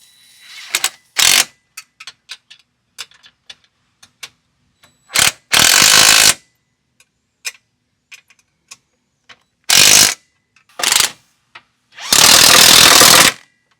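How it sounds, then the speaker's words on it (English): Ratchet wrench and socket tightening two M8 bolts on CFMOTO UForce U10 PRO long-travel suspension brackets: scattered single clicks, then several loud, rapid ratcheting bursts of one to two seconds, close up. "I'll start by tightening these 2 M8 bolts before we tighten our OEM shock bolt"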